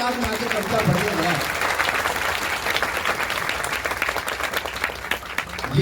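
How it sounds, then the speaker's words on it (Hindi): Audience applause for a poet at a poetry gathering in Prayagraj, a dense sustained wave of clapping from a large crowd filling the whole stretch, with some voices mixed in. "इतनी तालियां बजनी चाहिए एक बार भाई उत्कर्ष के लिए"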